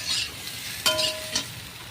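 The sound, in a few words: potatoes being stir-fried in a pan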